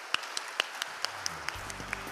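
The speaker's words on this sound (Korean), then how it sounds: "박수를 부탁드리겠습니다" Scattered, sparse handclaps ring out at a robot newspaper's tenth-anniversary celebration, a few distinct sharp claps in loose rhythm over a low murmur of the room.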